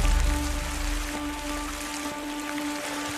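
Steady rain falls in the Rhodope Mountains of Bulgaria, an even, close hiss of drops on the ground with a faint low hum underneath.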